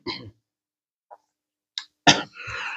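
A few short coughs with a gap of silence between them, ending in a harsher, longer burst of coughing and throat noise, close by.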